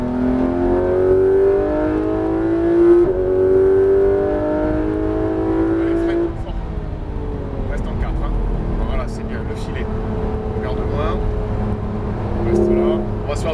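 A Porsche 991 GT3 RS being driven on the Alès circuit gives a loud, steady high-revving engine drone that shifts pitch partway through, with an instructor talking over it throughout.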